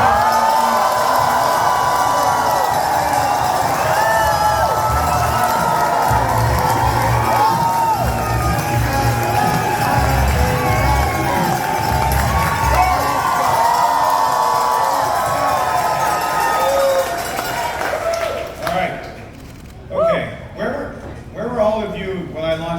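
A big crowd cheers, whoops and shouts loudly and continuously as Mark Carney is welcomed onto the stage at a speech in Edmonton, fading toward the end as scattered voices and noise remain.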